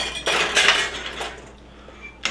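A spoon stirs oxtail stew in a metal pan, giving a few loud clattering scrapes and knocks against the pan early on, then quieter rattling and a last sharp clink.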